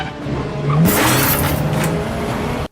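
Cars in a stunt sequence from The Avengers film, a loud burst of engine roar and crashing noise that cuts in under a second in and holds for about two seconds before stopping abruptly.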